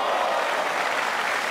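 Steady applause from a crowd at a 2006 WPC world pool championship final, dense and sustained at full strength throughout.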